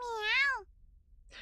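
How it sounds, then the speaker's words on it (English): A cat meows in a visual novel game, a single clear rising-then-falling meow up close, followed by a short breathy sound after a pause. "Eru meows in agreement while batting around a small rubber ball."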